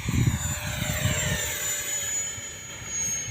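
An electric 64mm ducted-fan JAS 39 Gripen model jet flies with a steady, high-pitched whine and a strong, continuous tonal drone. It stays close and fairly loud throughout, with no talking.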